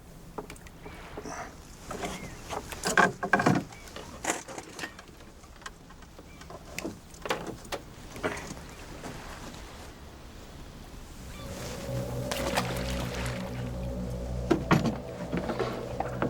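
An outboard boat motor turns over and catches partway through, settling into a steady low running drone, preceded by scattered knocks and clunks of movement aboard a small boat on the water.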